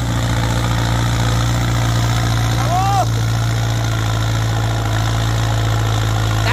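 A Massey Ferguson 5000 Turbo or 6640 Turbo tractor pushes soil to raise a paddy field bank, its diesel engine droning steadily and loudly throughout with a constant low hum. Speech is not evident.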